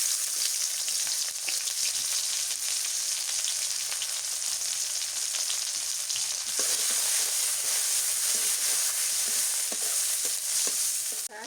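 Onions frying in oil, a loud bright hiss of sizzling with scattered crackles and stirring scrapes, sustained close up until it drops off abruptly at the very end.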